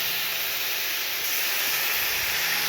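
A small splash of water poured into a hot pan of semolina upma with potato makes a loud, steady steam hiss that fills the whole moment, close up and continuous, with no voices.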